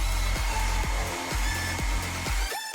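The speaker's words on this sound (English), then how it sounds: "We need some heat so we can use the hairdryer." A hair dryer blows hot air onto hair wrapped tightly around a hairbrush, a steady close whir with a faint regular pulsing, cutting off briefly near the end.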